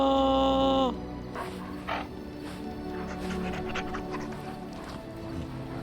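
Dog panting in the video game Dragon Age, a run of soft, breathy pants following a brief tonal sound at the start, close and moderately loud over a steady game backdrop with no talking.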